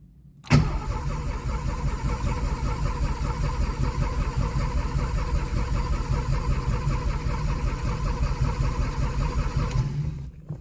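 A 1985 Maserati Biturbo engine cold-starts close by, catching abruptly after a brief crank and settling into a loud, steady, rough idle that runs for about ten seconds before cutting off.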